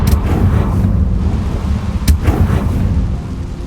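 A Confringo blasting spell explodes in Hogwarts Legacy: a heavy, booming game blast with a sharp crack near the middle, loud and rumbling over dense low-end noise.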